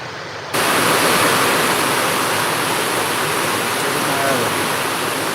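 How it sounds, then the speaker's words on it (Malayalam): Heavy rain pours down at night in Ponnani, starting abruptly after a short quiet moment and then holding as a loud, dense, unbroken roar close by. "എന്തൊരു മഴ വർഷന"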